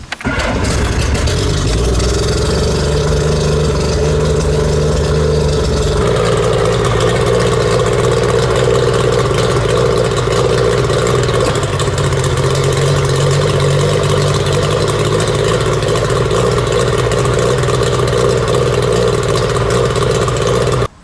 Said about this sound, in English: There's two things I want to emphasize when running your boat motor like this.